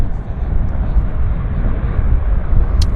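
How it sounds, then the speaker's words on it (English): A Saab 340 turboprop airliner taxis in after landing at a windy Vancouver airport, a steady, fairly loud engine rumble mixed with wind noise, heard from a moderate distance for a few seconds. "Okay guys, Saab 340's taxiing in. Just landed"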